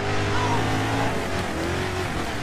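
Race car in GRID 2 spinning out on track, a sustained engine drone with shifting pitch and tire scrub, loud and close throughout.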